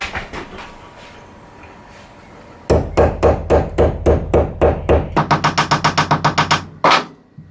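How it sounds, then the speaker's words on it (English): Steady hammer blows knock the flux coating off a stick welding electrode on bare steel, a fast run of sharp metallic strikes in two quick bursts, loud and close, ending in one final heavier hit. "I just bash this off with a hammer."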